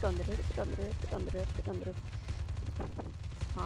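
Gunfire in Call of Duty Mobile during a team deathmatch, rapid bursts of shots under excited talking voices.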